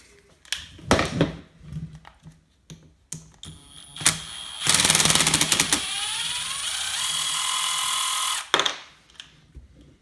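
A power drill whirs steadily for several seconds after scattered clicks and knocks of handling tools while building a Losi 5ive-T RC truck, close and loud, then stops abruptly.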